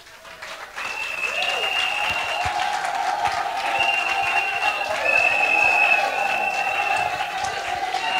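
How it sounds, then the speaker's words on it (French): An audience applauds at a political investiture ceremony, a sustained wash of crowd clapping with some cheering and high ululating calls over it, steady and fairly loud throughout. "On applaudit."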